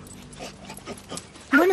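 A searching dog sniffs and gives soft whimpers and short yips, ending in a louder, rising high-pitched whine, all close by and without speech.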